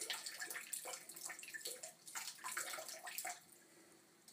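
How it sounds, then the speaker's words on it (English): In a bathroom, a faint trickle of water and scattered little drips run steadily, quiet and close, as the flow tapers off. "Just the last few little drips."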